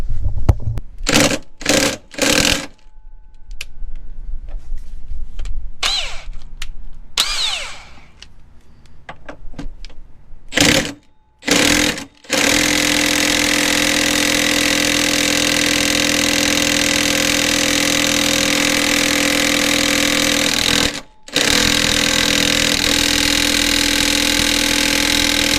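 A power tool whirs in short bursts while loosening the 18 mm body bolts that mount a Jeep Wrangler JL body to its frame, then settles into a long, steady mechanical drone with only a brief gap.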